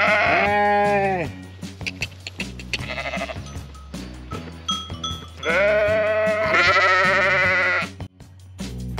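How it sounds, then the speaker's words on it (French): Small lambs bleat in repeated loud, wavering calls close by on a farm, several animals overlapping in bursts with short pauses between. "comme vous voyez, on a sorti les petits moutons"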